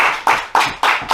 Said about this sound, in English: Give you a round of applause for Mr. Destructive Jack Delta.